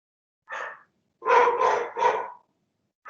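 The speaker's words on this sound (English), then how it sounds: "Is that your dog, Chris? That is my dog" A dog barks during a committee meeting, one bark and then a quick run of three more, moderately close with no talk over them.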